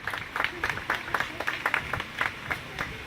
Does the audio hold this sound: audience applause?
yes